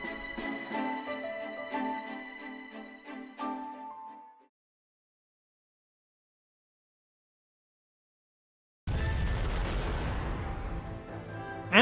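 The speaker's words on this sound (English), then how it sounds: "And there's a massive explosion." A massive explosion in the video game YuGiOh: The Falsebound Kingdom erupts as a loud, sustained roaring blast after tonal game music fades into a few seconds of silence.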